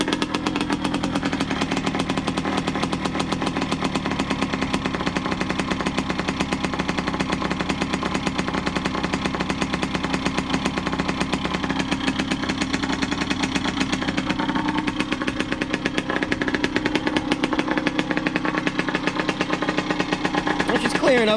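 A 1990 Yamaha YZ80 dirt bike engine runs at a steady high rev for a long stretch, a constant buzzing drone with a rough, rattly edge, close by.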